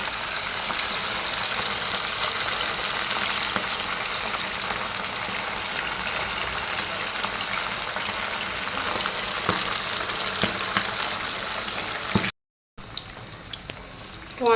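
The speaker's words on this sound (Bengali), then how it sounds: "তেলটা গরম হয়ে গেছে, আর এক করে ভেজে নেব।" Frying in hot oil in a home kitchen makes a continuous, even hiss of bubbling at close range that holds steady with a brief break near the end, and nobody speaks.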